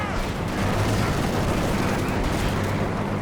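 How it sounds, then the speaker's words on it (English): Artillery and gunfire in a 3v3 match of the video game Company of Heroes 2 during a late-game tank battle make a dense, continuous roar of booms and shots with no clear breaks, loud throughout. "Oh, there's major artillery down here."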